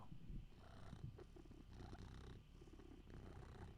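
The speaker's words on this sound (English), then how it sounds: "I hear purring." A steady, low rumbling cat purr, close and continuous, with soft rhythmic pulses and no talking.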